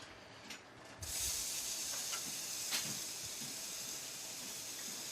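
Mushrooms saute in a pan alongside marinated beef, giving a steady soft hiss that starts after about a second and continues quietly to the end, with no talking.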